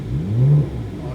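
A car at a Speed Vegas driving course pulls forward under light throttle, its engine rising in a low, mid-level surge that swells and then eases back to a steady idle rumble over about a second, with no talk.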